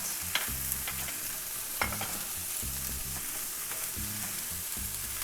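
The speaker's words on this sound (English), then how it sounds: "We are also adding roughly chopped garlic into this. Okay, and we're going to stir fry that." Vegetables and roughly chopped garlic stir-fried for curry noodles, with a continuous sizzle and repeated scraping strokes of a utensil against the pan in an uneven rhythm, close and steady, with no talking.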